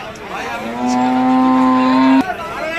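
At a cattle market in Nilphamari, a cow lets out one long, loud, sustained moo that cuts off abruptly, with murmuring market noise around it.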